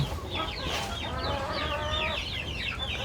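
Several laying hens cluck and chatter continuously at close range, a busy flock with overlapping calls and no talking.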